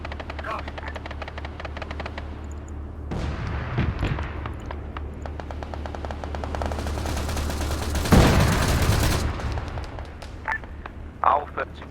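Arma 3 combat: a steady helicopter drone with scattered sharp gunshots and bursts of fire, a loud blast near the end.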